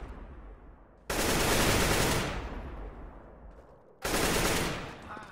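Gunfire in a competitive Counter-Strike tournament match, two loud close bursts of automatic fire, the first about a second long and the second shorter, each trailing off into echo over low game background.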